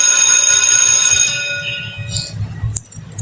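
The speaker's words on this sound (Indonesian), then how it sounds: "seketika diiringi bel sekolah yang berbunyi" A school bell rings loudly and continuously as a sound effect in a student radio drama, then cuts off and leaves a low murmur with a faint clink.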